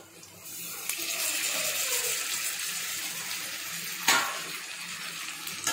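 Chopped tomatoes go into onions frying in a pan for kara chutney, under a steady, close, broad sizzle with a brief louder crackle partway through.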